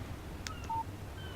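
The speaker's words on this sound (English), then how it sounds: "Text message from Barry." A short electronic text message notification chime from a phone in the Alan Wake video game, a few quick faint tones over a steady background hum.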